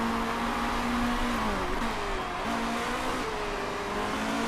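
Race cars in the Motorsport Manager game, GT Challenger Series, accelerating down a back straight, a steady continuous engine drone with rising and falling pitch sweeps, loud and dense throughout with no talk.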